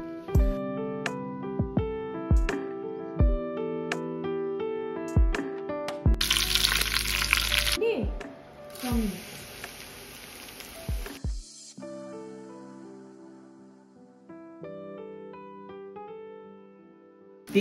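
Chivda, flattened rice (poha), hisses loudly in hot oil for several seconds, then fades out, with steady background music playing before, during and after the frying.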